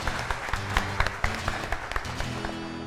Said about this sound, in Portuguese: Salva de palmas pros dois.